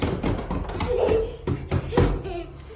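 Heavy fists thump on a door inside a home, several dull, loud blows in an uneven rhythm, with voices heard around the knocking.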